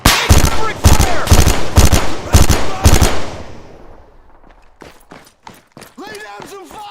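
Close, loud bursts of automatic rifle fire in ArmA 3 come in a regular rhythm of about six rapid volleys, then fade into scattered distant shots with voices shouting over the end.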